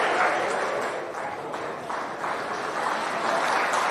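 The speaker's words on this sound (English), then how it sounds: "Paul O'Flynn gets applause from the Courtwood fans and others coming off" Gaelic football fans at a Laois senior football championship match applaud a player leaving the pitch, a broad steady wash of distant crowd clapping mixed with background chatter and commentary-like voices.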